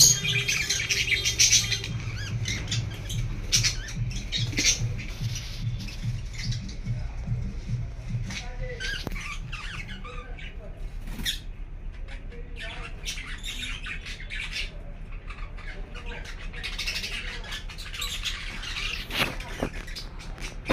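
Tame pet lovebirds squawk and screech in harsh, repeated bursts as they fight, loud and close, while someone talks over them.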